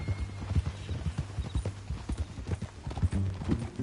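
Horse hooves clip-clop in a video game in a brisk, regular rhythm of close, distinct thuds, with faint background ambience.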